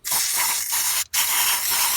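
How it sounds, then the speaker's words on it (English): Carb cleaner sprayed from an aerosol can onto an oily engine part of a Nissan Qashqai dCi, a loud close continuous hissing spray in two bursts with a brief gap between them. "So I've got some carb cleaner."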